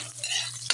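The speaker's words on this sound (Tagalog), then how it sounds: "Luyang unahin natin para maluto siya" Ginger, garlic and onion sautéing in a pan for Filipino escabeche, a steady close sizzle with soft stirring scrapes through most of the moment and a brief sharper clatter near the end.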